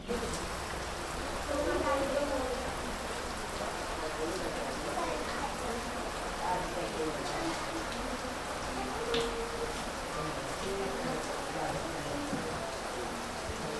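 Steady rain patters down over a Konkan village near Rajapur, a continuous wash of falling water with voices talking underneath.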